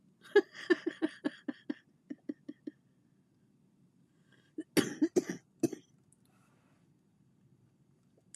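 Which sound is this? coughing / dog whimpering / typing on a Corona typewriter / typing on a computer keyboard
coughing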